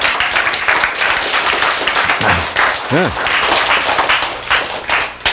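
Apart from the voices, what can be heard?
audience clapping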